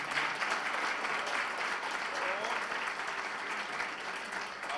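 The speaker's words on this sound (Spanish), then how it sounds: "Quiero pedir un fuerte aplauso para estos panelistas." Steady audience applause for panelists at a seated conversatorio event, an even wash of many hands clapping, fairly faint and distant, sustained for several seconds without a break.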